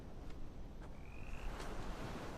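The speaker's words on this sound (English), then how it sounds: "I hear more frogs." Frog croaks in the horror game The Mound: Omen of Cthulhu, set along a beach, sounding as faint scattered calls over a steady bed of surf and wind noise, with no talking.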